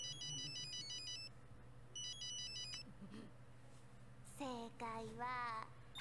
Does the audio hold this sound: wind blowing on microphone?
no